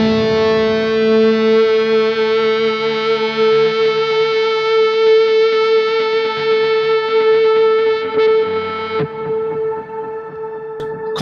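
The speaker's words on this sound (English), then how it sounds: "And I'm trying to have that feedback." A sustained electric guitar note swells into steady feedback, a pure ringing tone holding for several seconds before cutting off abruptly.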